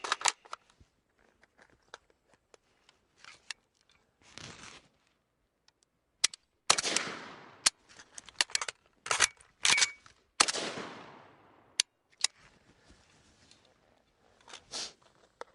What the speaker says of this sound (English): now I'm going to set up for the thumb reload.